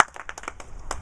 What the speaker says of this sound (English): when I say that, what you want is to clap once